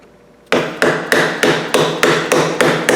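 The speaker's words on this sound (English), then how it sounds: "We tap them in, and there's a set of dovetails." A hammer tapping dovetail joints together in woodworking, eight sharp, evenly spaced knocks in a steady rhythm, loud and close, with no talking.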